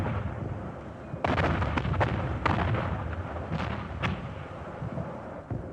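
Enemy mortar fire bombarding a frontline airfield in wartime Vietnam, heard as a string of sharp, loud blasts and booms over a dense rumbling background, with several distinct impacts spaced irregularly across the stretch.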